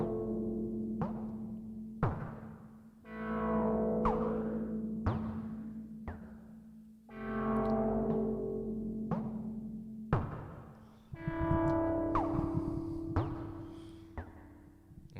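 Moog DFAM percussion run through a ZVerb reverb while its pre-delay and early-reflection scaling are modulated: a steady sequence of sharp hits, each trailing a shifting, smeared reverb tail over a sustained low tone, with no voices.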